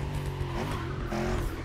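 A Lamborghini Urus engine in the racing game The Crew Motorfest, a steady loud rumbling drone with revving texture running continuously with no pauses.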